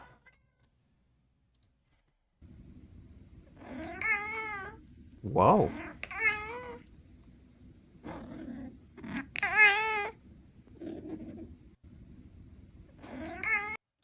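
A big cat, a cheetah, gives a handful of high, wavering meow-like calls spread across the clip over a steady low hum, with a brief startled exclamation from a person.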